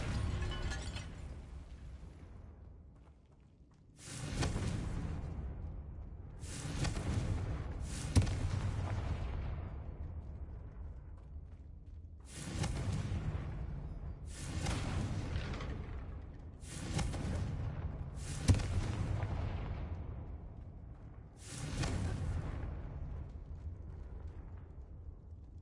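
The Confringo fire curse bursts again and again in a Hogwarts video game, a series of about seven heavy explosive blasts with rumbling decays, spaced a few seconds apart and fairly loud, with no talk over them.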